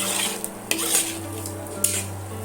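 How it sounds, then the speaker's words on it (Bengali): Fried potatoes are sautéed with spices in a pan for Kashmiri aloo dum, a soft sizzle under a few sharp clinks and scrapes of a utensil against the pan, with a low hum in the background. "আলুর সঙ্গে এখানে আমি দু মিনিটের মতন এইভাবে সুন্দর করে কষিয়ে নেব"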